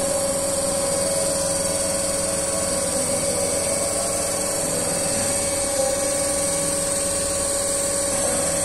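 A DC compound generator running at 1400 RPM in a lab setting, giving a steady, loud, continuous hum with a whiny mechanical drone that stays unchanged throughout.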